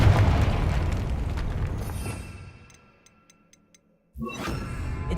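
A Confringo fire-spell blast in Hogwarts Legacy booms loudly and rumbles away into near silence, broken by faint ticks, before a second burst erupts.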